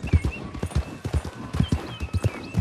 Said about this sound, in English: This is now the second Morgan horse I've owned. It's like a little pony.